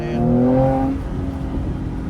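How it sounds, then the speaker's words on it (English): A Mercedes-AMG C43 engine rises briefly in pitch as it accelerates and downshifts, with turbo spool whine, then drops back to a lower, steady drone over about two seconds. "I get more turbo spool in second and third gear. Like if I start to accelerate, if I downshift,"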